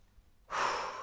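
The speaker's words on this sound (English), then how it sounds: "Deep breath." A single deep breath drawn in close to the microphone, rising suddenly out of near silence and holding as a soft, airy rush for about half a second.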